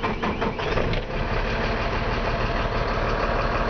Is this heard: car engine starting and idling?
yes